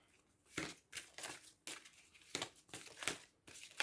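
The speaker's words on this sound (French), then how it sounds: "je vais prendre une autre carte" Tarot-style cards being drawn and handled from a deck, with several crisp papery shuffles and flicks in bursts, close and quiet with no talk.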